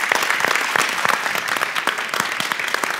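An indoor audience claps steadily for several seconds to welcome a singer, dense and continuous applause heard fairly close.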